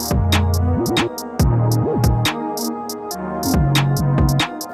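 A UK drill beat with a deep sliding bass line that glides between notes under crisp, rapid hi-hats and sharp snare hits, playing loud and steady throughout with no voices.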